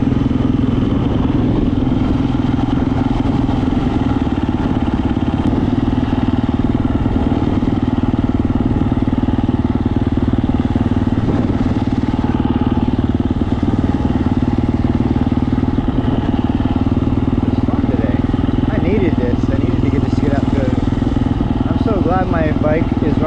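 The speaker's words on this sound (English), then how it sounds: "My bike is running good." A 2022 KTM 350 EXC-F dirt bike engine runs at a steady, loud, close drone with a buzzy mechanical clatter, holding evenly throughout while someone talks over it.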